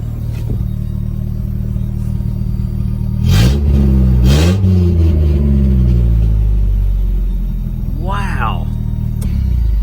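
Small engine of a Mighty Maxx running at idle, then sharply revved twice with rising and falling whines, and blipped again near the end, loud and close with someone talking over it.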